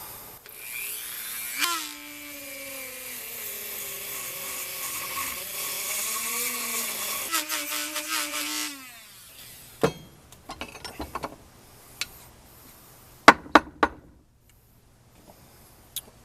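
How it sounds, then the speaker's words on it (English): A Dremel rotary tool cuts a part for an arm rest stabilizer stand, a high whining buzz that bends in pitch under load for about eight seconds, followed by scattered clicks and light taps. "So as I'm cutting, I'm actually pushing back a little bit, or else it's just going to cut it at an angle."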